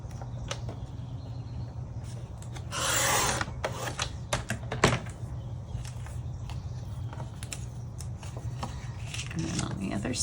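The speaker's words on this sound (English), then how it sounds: "So I'm just going to trim right around the edges of that flower." Scissors snip and rasp through stamped paper around a flower shape, with soft irregular cuts and rubbing, one longer scraping burst midway, close and fairly quiet.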